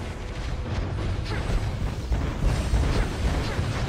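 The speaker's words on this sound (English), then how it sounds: "Your team destroyed a turret." A rumbling explosion as a turret is destroyed in a video game, with a steady, dense roar lasting several seconds and no talking.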